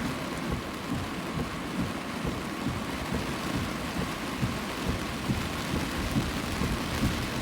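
Heavy rain pours steadily on surfaces during a New York storm, a dense continuous roar with low rumbles of thunder rolling underneath, loud and close throughout.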